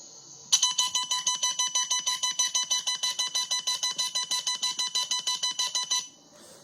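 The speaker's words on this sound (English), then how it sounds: "That's the alarm, pretty loud." Siren alarm on a Kasa KC200 outdoor security camera sounds as a fast, loud, pulsing electronic beep, steady for about five seconds before stopping, nearby with no talking.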